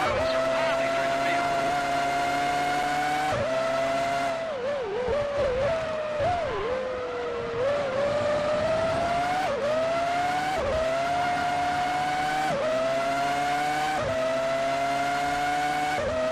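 Formula One cars from the F1 2003 video game race at the Australian Grand Prix, a Toyota chasing Mark Webber's Jaguar, their high engine whine climbing and dropping through gear shifts with brief tyre squeal, loud and continuous.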